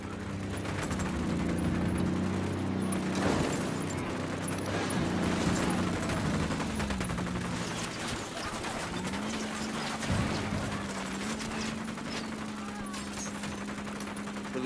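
Sustained gunfire in Ghost Recon Wildlands, dense overlapping bursts of automatic weapons over a low rumbling engine hum, loud and continuous throughout.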